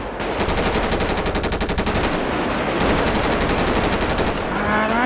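Sustained automatic gunfire from GTA 5 roleplay, rapid rhythmic bursts running almost without a break, loud and dense, with a second weapon joining partway through.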